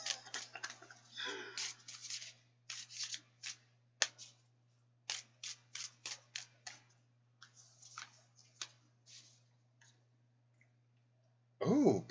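A deck of cards being shuffled up close, with quick bursts of crisp riffling and clicking that come in uneven groups and pause in between, then a short louder rustle at the very end.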